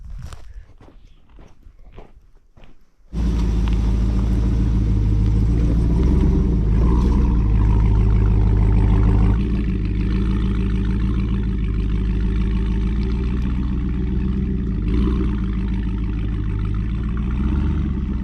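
A truck crawling along a rough dirt road near Kelly Point in the Grand Canyon; a loud, deep engine rumble with rattling starts abruptly after a few quiet seconds and holds steady, close and dominant.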